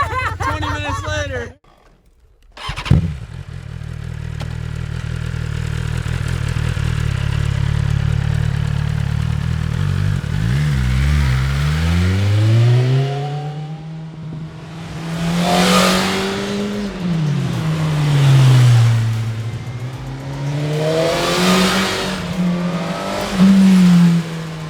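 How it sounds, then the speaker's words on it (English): A 2020 BMW S1000 RR motorcycle idles and then revs, its engine note climbing and falling in repeated loud rising sweeps, close by, with talking over parts of it. "So we just finished up the first kind of solo ride on the S1000 RR, double R."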